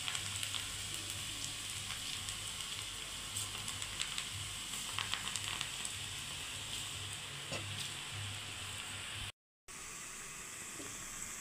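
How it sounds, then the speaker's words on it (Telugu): Steady crackling sizzle of amaranth-leaf pakoda batter frying in hot oil, continuous and close, with a brief dropout near the end. "నూనె వేడెక్కిన తర్వాత ఇట్లా కొంచెం వేసుకోవాలి"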